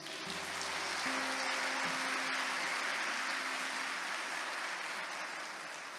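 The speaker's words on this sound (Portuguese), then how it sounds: "Aplauda a palavra do Senhor." A church congregation applauds after a scripture reading, a broad, steady wash of clapping filling the room for several seconds, with a sustained organ or keyboard chord sounding underneath before fading.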